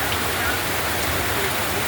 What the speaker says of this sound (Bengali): অনেক অনেক বৃষ্টি হচ্ছে